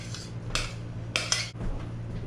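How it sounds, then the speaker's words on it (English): A spoon scoops couscous into a bowl of roasted vegetables, giving a few brief metallic scrapes and clinks against the dish, two or three distinct bursts over a low steady background hum. "Take your couscous, and just spoon it right into."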